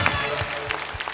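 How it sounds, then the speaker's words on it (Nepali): Applause from a comedy competition audience, a brief patter of claps mixed with a voice speaking over it, moderately loud and steady for about a second. "हामीले दाइलाई त्यसको लागि पनि एकचोटि मजाले ताली बजाउनु पर्छ"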